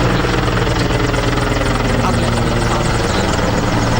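A helicopter's loud, steady rotor chop and engine drone over a military base during the Pathankot terror attack fill the whole stretch, close and unbroken.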